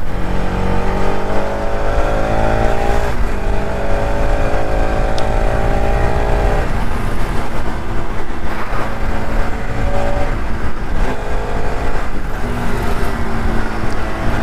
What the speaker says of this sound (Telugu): ఓన్లీ ఇంజన్ సౌండ్ వింటా కొంచెం ఎంజాయ్ చేస్తూ వెళ్తున్నా